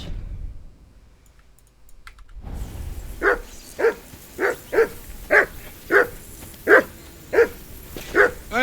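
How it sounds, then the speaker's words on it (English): A dog in the Kingdom Come Deliverance 2 game barks repeatedly in an even rhythm, about ten sharp barks following a quiet stretch, fairly close and loud. "Hey, call off that dog and then we can talk."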